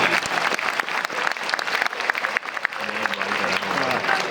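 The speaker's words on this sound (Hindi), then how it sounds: "ताली बजा सकते हैं आप, मेरे लिए नहीं," Audience applause at the Islamic Centre conference in Firozabad, a dense sustained clapping from a large crowd filling the whole stretch, steady and loud with a faint tone entering near the end.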